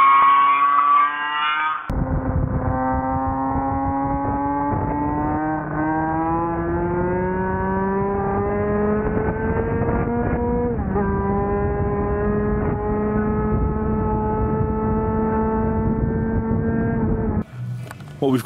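Lambretta scooter fitted with a Casa Performance 250 twin engine accelerating hard on a road, a loud, close, rising two-stroke howl that climbs through the gears with a brief dip at a gear change, running continuously.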